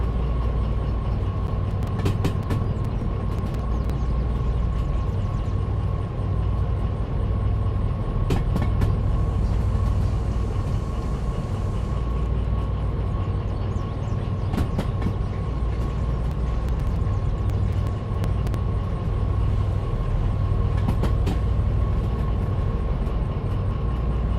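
A train rolls steadily in the Derail Valley sim game, with a constant loud low rumble, wheel noise and scattered clicks and clatter throughout, no talk.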